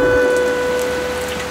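Steady rain falling, a dense even hiss that stays loud and close throughout with no voices over it.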